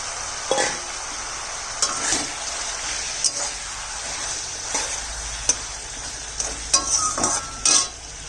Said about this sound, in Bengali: মশলা কষানো হয়ে গেছে মাছটা দিয়ে দিলাম